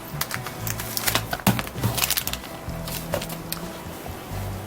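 Plastic bags holding chrome pieces from a 1968 Coronet MPC 1:25 scale model car kit being cut open, heard as close, sharp crackling and snipping bursts with some rustling.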